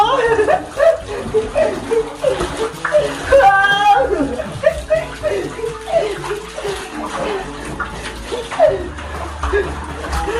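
Water pours and splashes for a bath, a continuous rushing stream heard close by while people talk and laugh over it.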